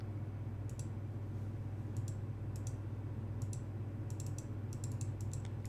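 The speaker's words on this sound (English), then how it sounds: "Clicking on the fruit does not seem to do anything." Faint, sparse computer clicks tick in small bursts over a steady low hum, the clicking of a mouse or keyboard while someone plays a browser game, with no voices.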